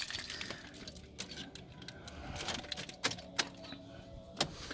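Keys jangle and clink in short bursts near a ute while someone works on a light bar and indicators, with several sharper metallic chinks standing out over a low background hum.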